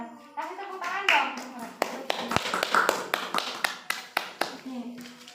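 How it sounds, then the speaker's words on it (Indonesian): Classroom students clap in a short burst, sharp separate hand claps thinning out into a few sparse claps, with children's voices in the background. "Kasih tepuk tangan dong"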